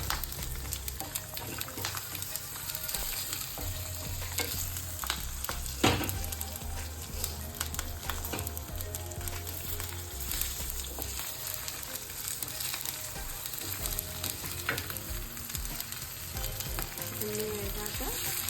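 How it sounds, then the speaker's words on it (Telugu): Ingredients for a quick gooseberry pickle fry in a pan with a steady, close sizzle and occasional stirring scrapes, running on without talk. "ఇవన్నీ మాడకుండా వేయించుకోవాలి"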